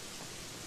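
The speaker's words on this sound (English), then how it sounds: "the rain is so loud" Heavy rain in the game Gothic 3, a steady, dense wash of falling water that fills the whole moment evenly and loudly, with no voices over it.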